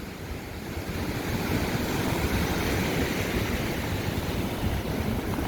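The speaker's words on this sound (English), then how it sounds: "I gotta be pretty quick because the waves are coming" Steady Oregon coast surf roars continuously, a broad, close wash of breaking waves swelling slightly louder after the first second, with some wind rumble and no voices.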